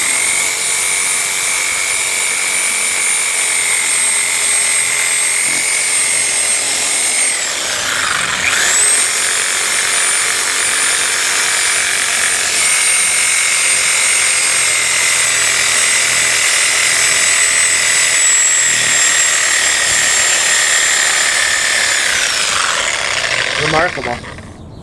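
Sawzall reciprocating saw fitted with a demolition blade cuts through an antique sofa, a loud continuous buzzing whine running nearly the whole time, with a brief stall and restart partway and a pitch drop as it stops near the end.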